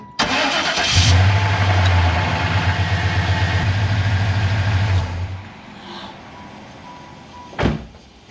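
A Chevrolet Impala SS engine starts with a short crank and rumbles at a loud, steady idle for about four seconds before shutting off, leaving quiet and a single thump near the end.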